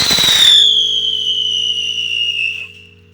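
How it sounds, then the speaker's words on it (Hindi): A Diwali firecracker goes off with a loud burst, then a long, clear, high whistling tone rings out alone for a couple of seconds before fading. "तो ये फिर लग गए थे पटाखे जलाने में"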